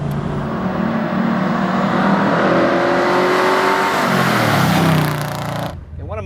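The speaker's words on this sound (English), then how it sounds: "these crate engines today, they are so good, this motor just sings." A Ford-racing-tach car with a Ford crate engine revs hard and accelerates, its loud, smooth engine note climbing steadily for several seconds, then dropping off abruptly at the end.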